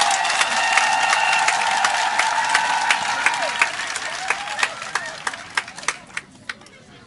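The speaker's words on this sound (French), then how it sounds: "j'aimerais que les dynamiques femmes de Sikensi s'acclament elles-mêmes" The women of Sikensi clap and cheer together at a public gathering, a dense ripple of applause that thins into scattered individual claps near the end, with a few faint voices.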